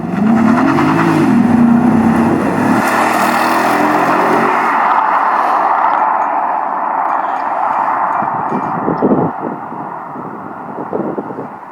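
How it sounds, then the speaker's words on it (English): A BMW 650i running its stock exhaust on a road test, the engine droning loud and steady as it accelerates with rising pitch, then settling into a cruising rumble with some road noise. "we're going to take a road test and see what the exhaust sounds with the stock system on the car."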